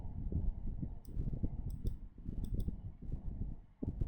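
Several crisp computer mouse clicks, some in quick pairs, sound up close over a low, muffled voice.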